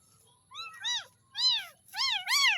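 Several abandoned kittens meow in quick succession, five high, thin rising-and-falling cries close by, with short pauses between them and quiet background.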